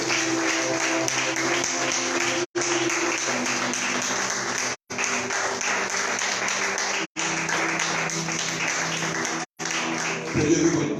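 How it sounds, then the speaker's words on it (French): A crowd at a religious conference applauds and cheers in long, loud, continuous bursts that fill the room. The bursts are broken by a few abrupt brief gaps, and a voice rises at the very end. "Acclame très fort pour Dieu."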